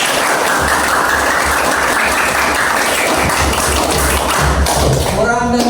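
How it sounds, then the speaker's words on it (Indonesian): A class of students claps hands together at the close of a teaching practice lesson, loud and dense continuous applause filling the room for several seconds before it thins out near the end. "Tepuk tangan untuk kalian semua."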